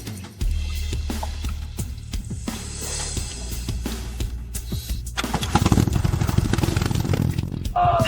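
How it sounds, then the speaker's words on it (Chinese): A repaired old boat engine runs with a rough, pulsing putter that builds to a louder, busier roar toward the end, close by, while a voice speaks over it. "发动机真响了，咱终于有自己的船了。"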